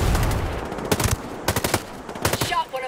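Gunfire in the video game Ghost Recon Breakpoint: loud, close bursts of rapid automatic shots in three clusters, with brief pauses between them.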